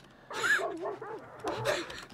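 Two short dog barks or yelps in the video game Hunt: Showdown, with a whining, tonal quality, spaced about a second apart, fairly clear against a quiet background.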